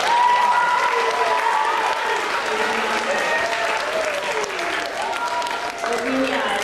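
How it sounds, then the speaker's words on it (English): An audience of middle school students and adults claps through a round of applause at a school event, a continuous crowd clatter heard under an overlapping voice and some sustained musical tones. "Give her a round of applause."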